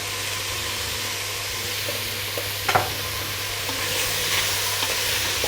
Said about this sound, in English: I'll stir them together.